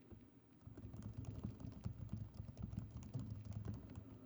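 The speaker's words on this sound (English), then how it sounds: "typing into this field here" Typing on a computer keyboard, entering text into a software form field, with a steady run of close, quiet key clicks that continues without a break across the whole stretch.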